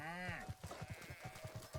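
A sheep bleats once in The Legend of Zelda: Breath of the Wild, with a wavering cry close by, then a run of soft rhythmic thuds, like footsteps.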